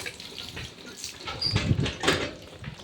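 Water splashing and being poured while bathing a pig named Molly, a soft, uneven wash of trickling and sloshing at moderate distance with faint background noise.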